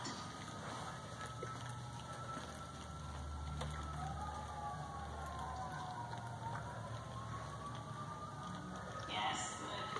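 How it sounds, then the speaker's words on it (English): Sirens wail in the distance during a horse dressage test, rising and falling slowly over steady rain-like background noise, with a brief sharper sound near the end. "Right as all the sirens start going"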